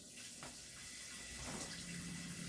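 Tap water runs in a steady, close rush while cooked noodles are rinsed and drained by hand in a sink, with faint splashes as the flow shifts.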